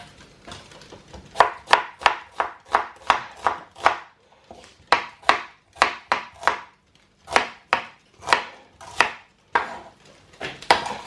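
Onions are chopped with a knife on a board in a close, loud series of crisp, rhythmic strokes, two bursts separated by a short pause, with no speech.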